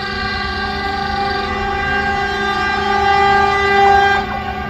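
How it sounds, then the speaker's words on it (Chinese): Taroko Express memorial train No. 408 passes slowly on a Taiwan Railway line, sounding a loud, sustained horn close by that holds for several seconds before it stops. "当9点28分事故发生的时间，第408次列车鸣笛并缓慢通过时，同时间全台铁所有路线上的列车同步鸣笛"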